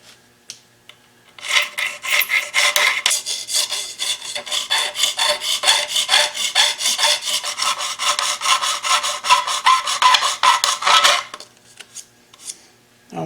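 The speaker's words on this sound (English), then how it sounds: "when you're filing into a corner, remember that the edge of the file cuts" A hand file rasps across metal held in a vise, making a close, loud stroke-by-stroke scraping rhythm that runs steadily for about ten seconds before stopping.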